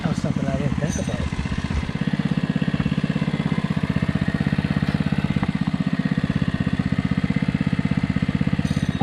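A 105cc mini bike engine runs steadily close by with a rapid, even putter and mechanical clatter throughout, while a voice briefly talks over it near the start.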